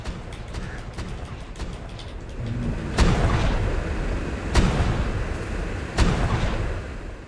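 Cannons fire in the video game ARK Survival Evolved, three heavy booms about one and a half seconds apart, each loud and near, set over a continuous rumbling game background.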